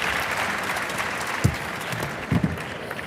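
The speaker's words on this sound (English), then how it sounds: "that's bigger cheer than I got coming out" A live podcast audience claps and cheers, a steady wash of applause with a couple of louder bursts near the middle and end.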